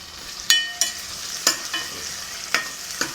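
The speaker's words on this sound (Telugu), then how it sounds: "ఇవి బాగా వేగనిద్దాము ఆయిల్లో, ఇంకా వేగాలి." Curry leaves, mint and ginger fry in hot oil, giving a soft background sizzle broken by several sharp scraping stirs of a spoon against the pan.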